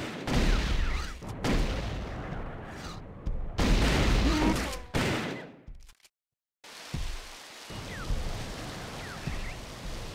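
Plasma rifle fire in a video game: bursts of loud, dense, crackling blasts with clustered shots, broken by brief gaps and one moment of near silence.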